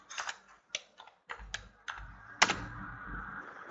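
Typing a connection name on a computer keyboard: a handful of separate key clicks with uneven gaps, then a sharper strike and a quick run of soft taps, close and quiet with no talk.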